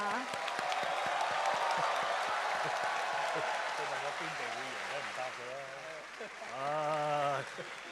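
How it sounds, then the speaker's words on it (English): A crowd applauds a university team at the ABU Robocon robotics contest in Hong Kong, a broad wash of clapping that fades as an announcer's amplified voice and music-like tones take over toward the end. "please give a big round of applause to the University of Electronic Science and Technology of China"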